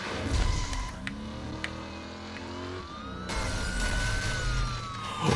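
Wailing police car sirens in the driving game Driver San Francisco rise and fall over engine rumble and occasional thuds during a getaway chase, moderately loud and continuous.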